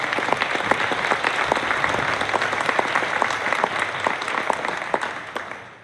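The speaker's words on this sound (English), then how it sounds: "I think that deserves a round of applause for these guys." A crowd at a varsity sports award program gives a round of applause: dense, loud clapping from many hands that holds steady for several seconds, then fades out at the end.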